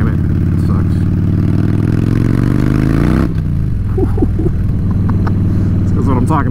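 Steady roar of a motorcycle engine riding on wet roads, loud and close, with the pitch sliding through a gear change and tire and road noise underneath; a rider talks over it.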